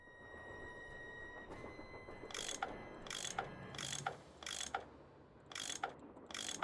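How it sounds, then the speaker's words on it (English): A tool unscrews the bolts of a metal grate in the Nancy Drew game Last Train to Blue Moon Canyon, giving six sharp ratcheting bursts at a steady rhythm, each a crisp metallic clicking turn separated by short pauses. "I bet that's what you use to unscrew these bolts"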